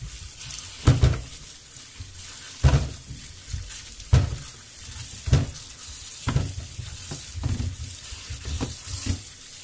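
Apples are washed under a running kitchen tap, with a steady splash of flowing water and repeated louder sloshes and thumps as the fruit is handled, close and without talk.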